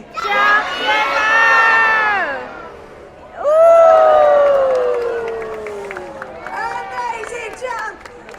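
A large crowd of children shouts and cheers loudly at a seal show at Taronga Zoo, Sydney, in two swelling bursts, the second rising sharply then fading into scattered excited voices.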